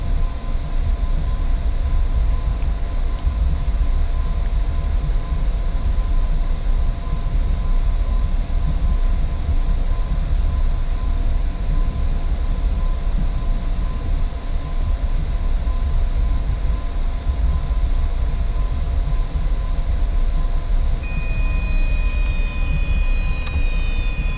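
F-86F Sabre jet engine running while the aircraft taxis at Dubai, a loud, continuous turbine roar with a steady high whine that shifts in pitch near the end.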